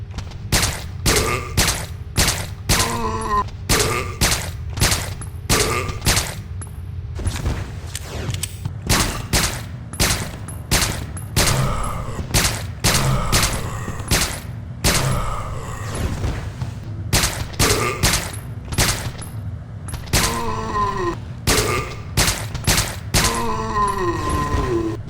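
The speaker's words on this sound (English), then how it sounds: "let's go ahead and test the silencer handgun on some zombies" Silenced handgun fired at zombies in Resident Evil: Dead Aim, a long steady series of muffled shots at a regular pace, each with a sharp snap, mixed with groaning zombie sounds and loud background game noise.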